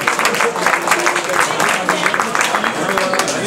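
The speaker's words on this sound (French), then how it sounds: "propose d'applaudir l'équipe de Juvisy" An audience at a French rugby club's post-match gathering applauds the visiting Juvisy team, giving dense, continuous clapping in a room, with voices mixed in under the applause.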